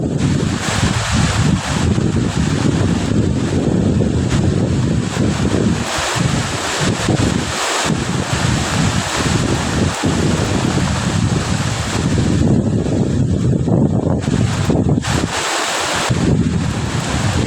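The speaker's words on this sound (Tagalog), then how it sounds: "Kaya ito yung epekto ng bagyo dito sa amin." Strong typhoon wind in San Juan, Pamplona, Cagayan Valley roars continuously and loudly across the microphone, with gusty buffeting and rushing surges that go on without a break for the whole stretch.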